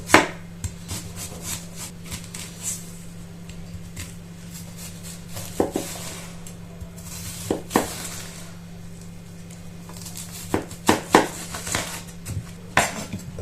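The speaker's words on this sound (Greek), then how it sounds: "Θα ψιλοκόψουμε το κρεμμύδι και το καρότο." A knife chops onion and carrot finely on a board, giving irregular bursts of sharp close taps with short pauses between runs over a steady low hum, and no talking.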